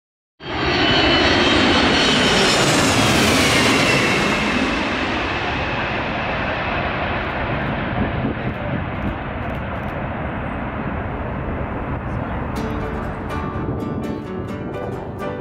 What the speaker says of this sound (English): an incredibly rare Boeing 747-SP